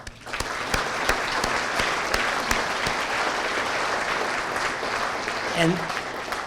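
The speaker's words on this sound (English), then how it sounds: "So how about a round of applause?" Audience applause at a college foundation annual dinner, a steady wash of clapping from a crowd that holds through the moment with a few sharper individual claps standing out.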